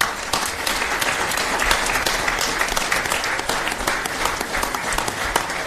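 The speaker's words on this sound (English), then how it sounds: "I think all the guys deserve a round of applause for taking these fights." Steady, dense applause from the audience at a Belfast boxing press conference, filling the room evenly at a constant level with no talk over it.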